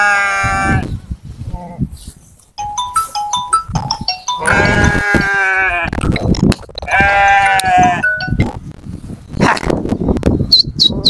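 Sheep bleat loudly and repeatedly at close range, joined by a newborn lamb about an hour old, with overlapping cries and some noisy movement between calls.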